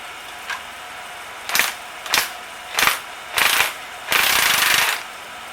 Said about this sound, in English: We got our thin wall socket on the 1/2-inch drive